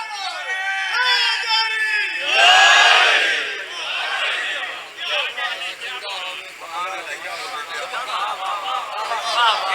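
A Muharram majlis crowd at an imambargah in Pakistan raises a loud religious slogan, a surging chorus of shouted voices peaking early, then breaking into overlapping chatter and calls that continue close by.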